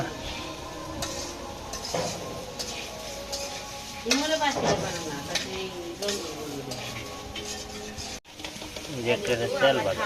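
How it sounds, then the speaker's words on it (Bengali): Rice being dry-fried and stirred in a pan, with scraping utensil and pan clatter under a person talking. "চাল ভাজা করবো কারণ হলো চাল ভাজা খাইতে খুব স্বাদ আছে"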